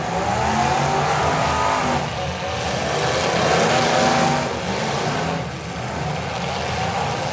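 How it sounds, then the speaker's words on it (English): Modified cars battling in a county fair demolition derby, loud engines roaring and revving continuously with surging pitch, tire noise and crowd-level din close by, no voices. "As these modifieds continue to battle each other."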